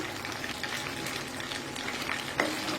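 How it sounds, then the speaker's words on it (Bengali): Turmeric and mustard paste frying in oil for a Bengali mango pickle, a steady close sizzle with soft stirring scrapes and a brief sharper hiss near the end, no talk. "কষিয়ে নেব এখন আমি পুরাটা তেলই দিয়ে দিব"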